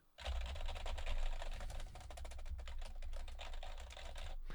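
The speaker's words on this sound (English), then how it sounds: "So here's a Windows keyboard of some sort." Continuous typing on a Windows computer keyboard with dense, rapid key clicks and a low hum underneath, steady and close throughout.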